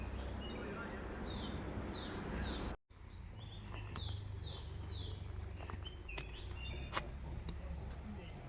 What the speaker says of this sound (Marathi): बॅकग्राऊंडला तुम्ही पक्ष्यांचा किलबिलाटही ऐकू शकता.